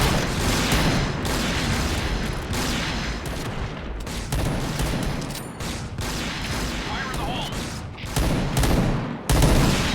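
Gunfire from a sniper shooter video game, dense and loud through most of the stretch, with bursts of shots and booms running almost continuously and a few brief dips.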